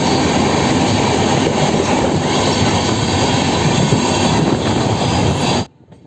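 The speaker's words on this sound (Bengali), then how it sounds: "খড়গপুর জংশনের দিকে আমাদের ট্রেনটা কিন্তু এগোচ্ছে" Loud, steady rumble of the Dhauli Express passing through a halt near Kharagpur Junction, with rattling carriages and wheel noise, continuous until it cuts off abruptly near the end.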